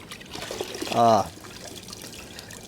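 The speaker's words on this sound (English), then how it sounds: "I am rinsing the bowl out a little bit and cleaning it." Water trickles faintly while a tractor's fuel bowl is rinsed out in a workshop, with a brief voice sounding partway through.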